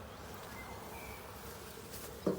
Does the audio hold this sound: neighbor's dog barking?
no